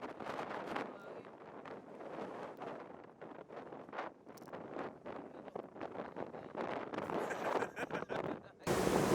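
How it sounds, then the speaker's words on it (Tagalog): Gusty wind buffets the microphone in uneven bursts, with rumbling, rushing noise from open water around a moving island-hopping boat in Coron, Philippines; a muffled voice briefly cuts through. "Lakas ng hangin!"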